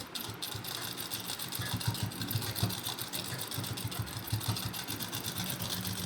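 A sewing machine runs steadily while stitching underwear fabric, a continuous close mechanical whir with a rapid needle rhythm and slight fluctuations in speed.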